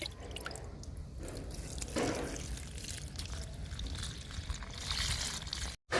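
Liquid fertilizer poured from a container onto a potted garden plant, a soft continuous trickle and splash of liquid with faint drips, close and quiet, no talk.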